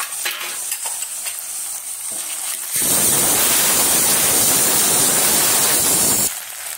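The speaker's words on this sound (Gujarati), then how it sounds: "હવે આપણે એક મીડિયમ સાઇઝ ટમેટો પણ એડ કરીશું।" A medium-sized tomato goes into a pan of sizzling ginger, garlic and chilli paste with browned onion, and a loud burst of frying and stirring rises and holds steadily for several seconds.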